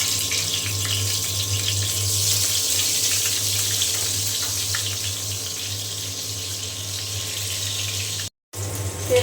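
Eggplant fries in hot oil, a loud, steady sizzling hiss that holds evenly throughout and breaks off for an instant near the end.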